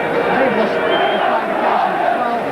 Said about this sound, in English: The Widnes team take the field in front of a capacity crowd